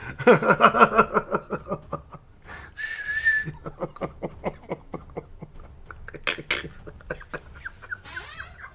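A person whistles a quick series of short chirpy notes, including a brief sustained tone, with breathy laughter around it, close to the mic.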